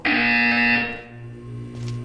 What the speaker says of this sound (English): You will hear a buzzer. When you hear the buzzer, look up at the ceiling.